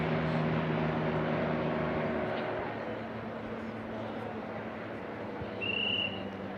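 Two light STOL aircraft, a Just Aircraft Highlander and a Rans S7, race side by side down a 2,000-foot drag course, their propeller engine drone steady and fairly loud, with a brief higher whine late and voices talking over it.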